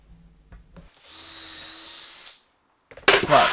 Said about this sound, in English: drill all those holes